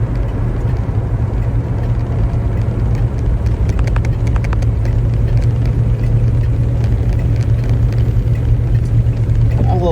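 A 1966 SS Chevelle convertible drives along a road, its engine giving a loud, steady low rumble with wind and road noise throughout.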